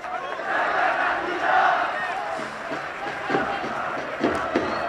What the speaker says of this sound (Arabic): هذه الجماهير تهتف وتغني بحناجر لا تهدأ